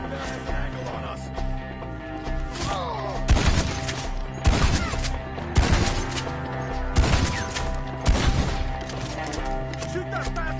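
Gunfights in Red Dead Redemption 2: scattered loud shots and short volleys crack out every couple of seconds over a steady background bed, with game voices shouting through the exchange.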